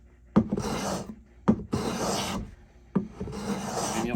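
A Stanley 66 hand beader scrapes a bead along a wooden edge in three firm strokes, each starting with a sharp catch and then a raspy cutting rub, close and alone.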